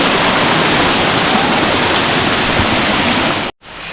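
Katika Waterfalls in the Araku valley roar as a loud, steady wash of falling water, cutting out abruptly for a moment near the end before returning.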